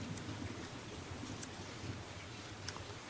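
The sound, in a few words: rain falling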